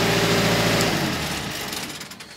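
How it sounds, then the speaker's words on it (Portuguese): A Thermo King Super 2 Max refrigeration unit's engine idles with a loud, steady mechanical drone close by, then winds down and fades as it is switched off. "O motor tá ligado, vou desligar ele aqui."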